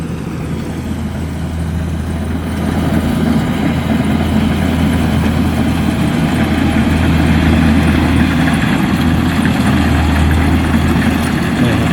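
A vehicle engine runs steadily loud and close, its low rumble rising a little after the first few seconds and holding at a sustained high-revving drone.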